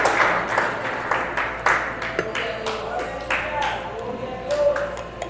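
A church congregation claps for God, with scattered, uneven hand claps in a room that rise and fall while voices speak over them.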